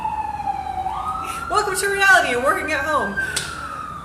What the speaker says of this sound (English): sorry if you can hear my sirens in the background